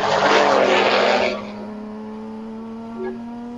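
A Porsche 944 race car passes at speed during a ChampCar endurance race at Sebring, a loud broadband engine roar in the first second and a half that drops to a steady lower drone as it moves away.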